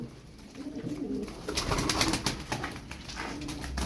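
Pigeons of the Turkish fancy breed with crested and lighter-barred plumage coo softly in their loft, a few birds murmuring at moderate distance against faint rustling and background noise.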